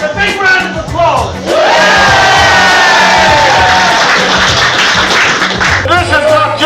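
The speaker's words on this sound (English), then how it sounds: "The hard-working workers here who don't get their breaks, a big round of applause." A fast-food workers' protest crowd bursts into loud cheering, whooping and clapping that swells and holds, with shouting voices and talk over it nearby.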